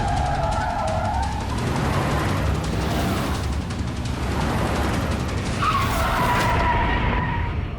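A car brakes hard, tires squealing and skidding loudly in two close bursts with a rough rumbling slide in between.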